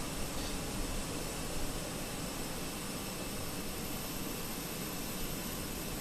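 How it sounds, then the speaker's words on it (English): Simulated Airbus A320 jet engine starting in the Fenix flight simulator, a steady broadband roar and hiss holding even throughout, loud and continuous with no voices. "I'm going to turn the sim volume up a little bit so you can hear this engine start"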